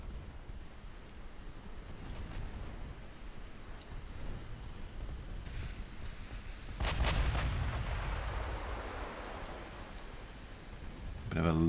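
Battleship secondary guns firing in a naval combat video game, with the ship fast Montana class; a steady rumble of distant gunfire carries throughout, with a heavier burst of booming shots near the middle and another at the end, under a voice.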